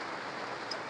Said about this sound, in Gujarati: તમે અંદાજી કરી શકો છો કે વરસાદ કેવો પડે છે